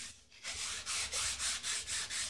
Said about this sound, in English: You want to sand it about a 45 degree angle.